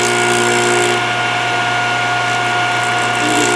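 A Thorvie AV-40 sharpening machine's motor runs with a steady, loud mechanical whir and strong tonal hum, a ratcheting texture throughout, heard alone with no talk.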